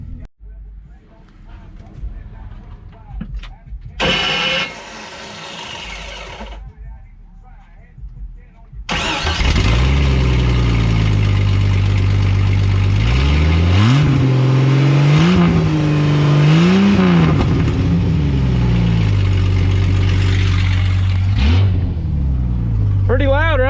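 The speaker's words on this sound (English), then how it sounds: "Let me put you guys down and let you hear the exhaust." A car engine cranks and starts, then settles into a loud, throaty exhaust rumble that rises and falls as it revs repeatedly.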